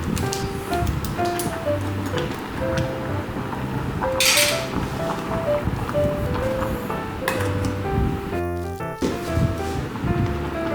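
Dried noodles drop into a pot of rolling, bubbling water while sea urchin ramyeon is cooked. There is a soft clatter against the pot under light music, then a brief sharp rattle near the end.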